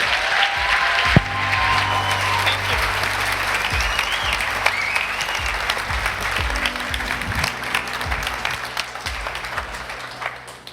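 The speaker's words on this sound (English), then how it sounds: "Give her a big round of applause." A live audience at a talk bursts into sustained, dense applause, loud and steady throughout with scattered claps standing out from the crowd.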